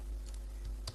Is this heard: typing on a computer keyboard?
yes